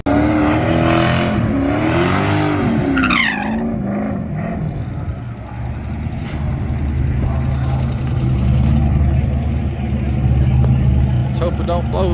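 A turbocharged 5.3-swapped 1996 Camaro with a VSR Gen 2.5 7875 turbo revs loudly close by, engine roar rising and falling with a sweeping whine, while people talk over it at the start.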